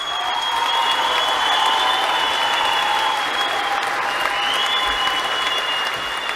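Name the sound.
audience applause at end of show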